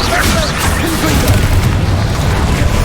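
A Confringo blasting spell explodes in Hogwarts Legacy with a loud, booming burst. The blast fills the short moment with a dense, noisy roar and crackle, and there is no clear gap of quiet.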